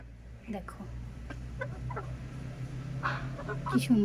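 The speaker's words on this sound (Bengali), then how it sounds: "আর এই দেখো আমি দুটো মুরগি এনেছি" Two hens clucking in short, scattered bursts close by over a steady low hum, with a few sharper calls near the end.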